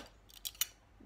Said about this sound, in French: des ciseaux